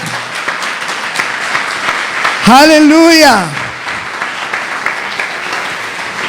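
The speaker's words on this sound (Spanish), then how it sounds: "¿Cuánto le dan un aplauso al Rey de los Reyes?" A church congregation breaks into applause during a sermon, and a loud voice shouts out over the clapping before it fades back to a murmur.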